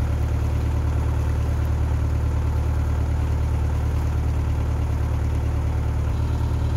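A narrowboat's diesel engine idles just after a cold start, having sat unused for about a week; a steady, loud low drone with a continuous even throb runs throughout, with no talk.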